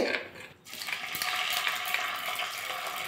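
Ginger and spices sizzle steadily in hot oil in a pan, with salt and cumin added for a spicy cauliflower curry, and a spoon stirs through them. A brief quieter moment comes before a close, continuous crackling fry.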